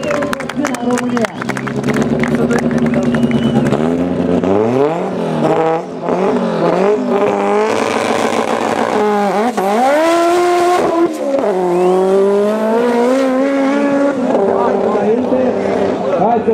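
A Nissan GTiR drag car roars through a quarter-mile run, the engine screaming up through several gear changes with rising and falling pitch, loud and close, with excited commentary and crowd voices underneath.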